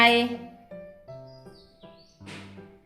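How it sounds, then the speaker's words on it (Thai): Faint, high bird chirps drift in the background under a voice that hums or speaks in sustained tones. "นั่งฟังเสียงนกนะคะวันนี้เสียงนกเยอะ"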